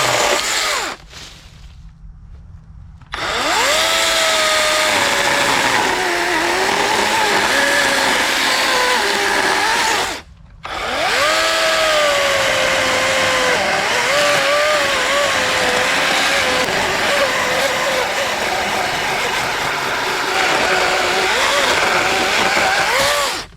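A Kobalt 12-inch 24V brushless cordless chainsaw cuts through wood close to the ground, its motor whining loud and near. The pitch dips and rises as the chain bogs in the cut, with one early stop and a short pause midway.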